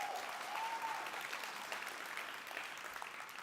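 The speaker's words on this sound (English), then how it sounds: "Round of applause to the organizers, guys." Conference audience applause for the event organizers, a soft, sustained patter of many hands clapping at a distance, with a faint tonal whistle early on.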